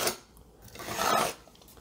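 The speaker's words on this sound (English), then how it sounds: "I'll carve off a thin layer." Blade carving a thin layer off a foam block for a camping ice chest, heard as a short rasping scrape that swells, dips and rises again over about two seconds, close and fairly quiet.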